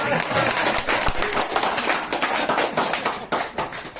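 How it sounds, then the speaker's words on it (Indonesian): A group at a sales training session claps loudly and rhythmically, sharp hand claps repeating in quick succession with some voices mixed in. "Tepuk tangan biar"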